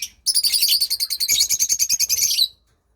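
A lovebird parrot in a cage gives a rapid, loud run of shrill chirps, close and steady for about two seconds, then stops.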